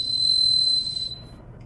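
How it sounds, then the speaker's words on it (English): A loud survival whistle from a pocket survival kit gives one steady, piercing shrill blast that holds for about a second before cutting off, heard alone and close. "it's actually a really loud whistle for what it is."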